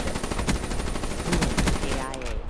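Gunfire in the Black Ops 3 video game, a rapid string of loud, closely spaced shots running through the whole clip and thinning out toward the end, with game noise around it.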